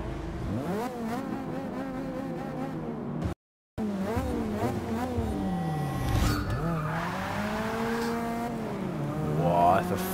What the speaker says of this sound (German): Volles Durchdrehen am Anfang.